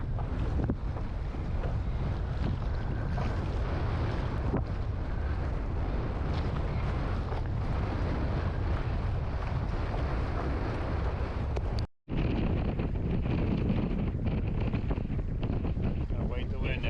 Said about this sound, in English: Gonna wait the wind out a little bit here.